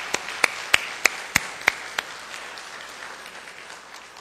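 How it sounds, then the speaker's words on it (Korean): A church congregation at a Korean service in Atlanta gives applause. It starts as a handful of sharp, distinct claps spaced evenly apart, then fades into softer, scattered clapping. "우리 아빠들을 위해서 다시 한번 박수로 격려하겠습니다."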